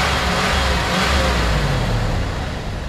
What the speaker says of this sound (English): go ahead and rev it up. Time to rev.